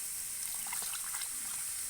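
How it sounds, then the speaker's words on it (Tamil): Water pours in a steady, soft stream with light splashing, fairly close and alone. "இப்போ சாந்தில் தண்ணி ஊற்றிக்கலாம்"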